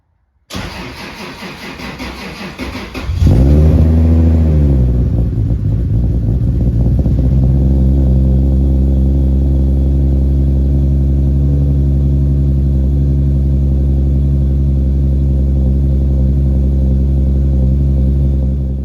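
A 1000bhp six-speed Toyota Supra engine cranks on its starter for about three seconds, catches with a loud burst, then settles into a deep, steady, rumbling idle close by.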